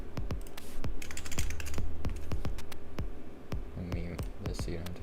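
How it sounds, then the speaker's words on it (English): Rapid, irregular typing on a computer keyboard, many close, crisp key clicks over a steady low hum, with a voice speaking faintly underneath. "Let me mute this so you don't have to hear me typing randomly."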